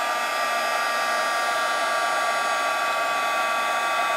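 A handheld heat embossing tool blows hot air to melt embossing powder on stamped butterflies. Its loud, steady whirring hiss runs unbroken from start to end.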